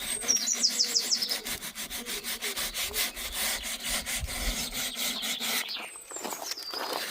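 Sandpaper rubs varnish off a vintage wooden cottage chair in quick, steady back-and-forth strokes, close and fairly loud, with a brief squeal and a change in scraping texture near the end.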